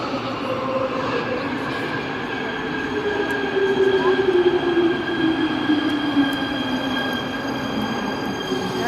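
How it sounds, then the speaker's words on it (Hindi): A Prague metro train pulls into the station with a steady rumbling roar, while a high wheel squeal slowly slides downward in pitch as it slows. "चलो हमारी मेट्रो भी आ गई है अभी।"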